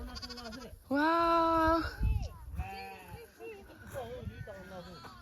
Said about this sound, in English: Wow. Look at the sheep.